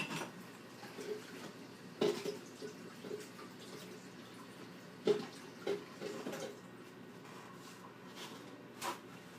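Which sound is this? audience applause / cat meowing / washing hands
washing hands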